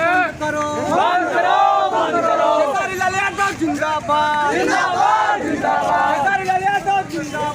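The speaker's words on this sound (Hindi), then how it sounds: "पंकज सिंह मुर्दाबाद का नारा लग रहा है यहाँ पे" Protest crowd chanting a slogan in unison at a large street gathering, loud rhythmic rising and falling voices repeating in waves with babble between.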